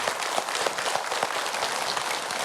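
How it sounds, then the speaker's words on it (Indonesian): An audience claps steadily in welcome of Ustadz Muhammad Al-Ghifari, a preacher at a religious gathering, with a dense patter of many hands at even strength and no voices over it. "Tepuk tangan dulu"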